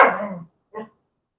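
A dog gives two short barks indoors, the first louder and longer, the second a brief softer yip after a pause.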